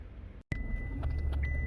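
A Chevy pickup with a pickup and performance fault idles just after starting: a brief dropout, then a sharp click and a steady low engine hum with faint chirps above it.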